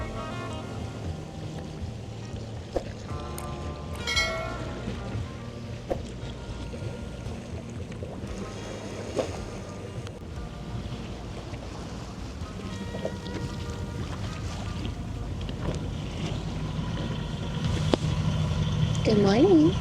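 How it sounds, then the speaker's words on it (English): Water rushes and splashes steadily around a sailboat under way toward the Atlantic, a continuous close wash with occasional creaks and knocks, growing slightly louder toward the end. "just the sound of the water."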